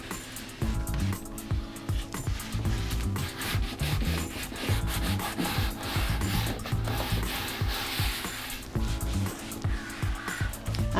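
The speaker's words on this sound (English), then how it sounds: "I shall just run on that corner edge there, just with a sanding block, just to finish that edge off neatly." A sanding block rubbed back and forth along the edge of decoupage paper on a painted wooden piece, a close, steady scratchy rasping in repeated strokes that lasts throughout with no speech.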